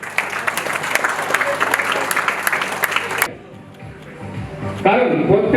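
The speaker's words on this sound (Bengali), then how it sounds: "সবাই মিলে নারী শক্তির জন্য একবার করতালি হবে" An audience at a crypto awareness programme breaks into loud, dense applause for the women, sustained for about three seconds before cutting off, followed by a brief lull and then a voice speaking.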